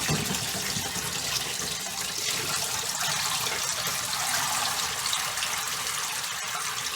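Dirty wash water from a sheep fleece runs and gushes steadily in a sink, a continuous close splashing rush of liquid that fills the whole stretch without any talking.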